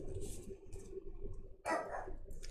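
Indoors, a pet dog lets out one sharp, fairly close bark after some quiet rustling, with a couple of softer sounds before it.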